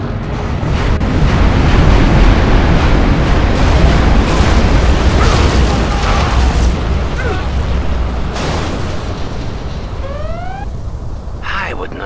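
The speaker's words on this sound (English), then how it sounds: "I would not have expected you to use my Scud storm." Scud Storm missile strikes in C&C Zero Hour: a sustained roar of heavy explosions and rumbling blasts, loud and dense, with brief whistling and chirping effects near the end and some game voices.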